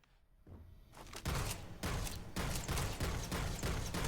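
A gun in a video game fires at its normal rate, loud, repeated shots following a quieter start, with heavy thumping bursts continuing to the end.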